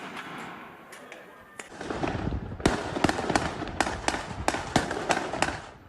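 Fireworks going off during street protests in Jerusalem, a rapid string of loud sharp bangs and crackles, some close and some farther off, over a rumbling crowd background.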